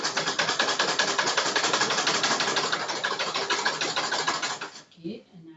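A sewing machine stitches with a loose stitch setting, a dense rapid mechanical whir and needle clatter running loud and steady for about five seconds, then cutting off abruptly, followed by brief quiet handling noises.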